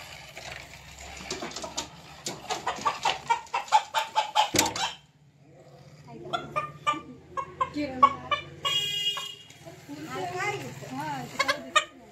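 A rooster bought for 400 taka, being readied for a homemade desi chicken dish, gives a run of loud, close clucks and squawks that cut off midway, then calls on and off beneath someone talking.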